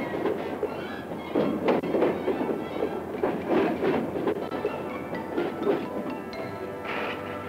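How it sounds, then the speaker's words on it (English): Freight cars rolling over the hump in a rail switching yard, with irregular heavy clanks, couplings banging and wheels rumbling on the track, plus a brief squeal near the end, all fairly close. "Every hour of every day, freight cars are pushed over the hump."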